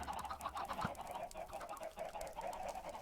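Soft, repeated clucking from a video game chicken continues in a steady flutter, fairly quiet and without any talking over it.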